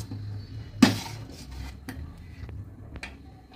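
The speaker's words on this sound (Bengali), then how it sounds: "এইভাবে তলাটা এরকম চেপে চেপে, যাতে না ধরে যায় তালটা, তার জন্য চেপে চেপে আমি এটাকে ভালোভাবে ফুটিয়ে নেব।" Palm fruit pulp being stirred and pressed against the bottom of a pot on the stove, with one sharp scrape of a spoon on metal followed by softer rubbing and light taps, close and under steady background noise.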